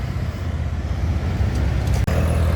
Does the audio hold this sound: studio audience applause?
no